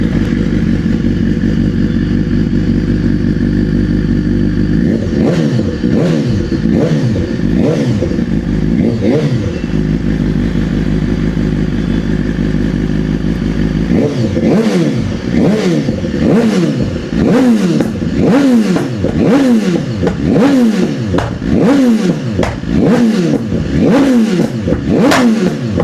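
A BMW S1000 RR superbike with a full system exhaust, first idling with a loud steady drone, then revved in repeated sharp bursts that grow faster and more aggressive in the second half, close and loud with no talk.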